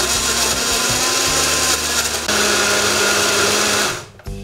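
A Ravelle chopper blender blends a smoothie with a loud, steady motor whir held close to the listener, then cuts off abruptly near the end.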